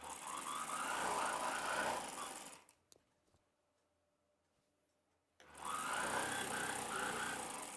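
A sewing machine stitches a half-inch seam along the edge of an umbrella dress, running in a steady, buzzing whir, stopping for a few quiet seconds, then starting up again, faint and close.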